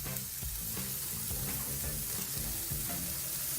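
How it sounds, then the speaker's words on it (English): Bacon sizzles in a hot pan, a dense, continuous crackling fry heard up close with faint clinks and no voices. "We're going to cook that until the bacon starts to turn brown"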